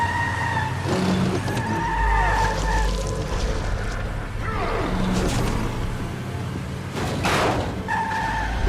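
A car skids and slides during play in The Wolf Among Us, its long tire screech and engine roar sweeping through over steady rumbling background noise.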